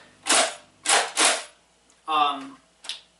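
A Nerf Air Warrior Decimator toy blaster fires three sharp, airy bursts in quick succession, loud and close, followed by a brief voiced sound and one last fainter puff.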